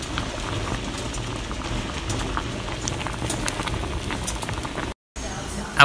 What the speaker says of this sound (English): do you like my simmer pot?